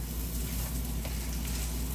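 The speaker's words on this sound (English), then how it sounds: "I'm frying up the rice first before I add any water." Two pints of rice frying in hot oil in a pot before water goes in, giving a steady, close, dense sizzle that holds evenly throughout.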